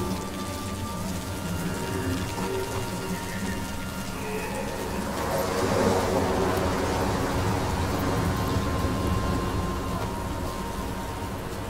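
A steady wash of storm noise from the video game Hellblade 2, like heavy rain and wind, fills the scene with a low rumbling swell that builds near the middle and stays dense to the end.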